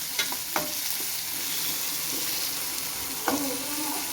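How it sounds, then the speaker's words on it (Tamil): Steady sizzling of onion and tomato sautéing lightly in a pan for pirandai (veldt grape) chutney, with a few sharp scraping stirs of a spatula at intervals. "இதுவும் லைட்டாக வதங்கட்டும்"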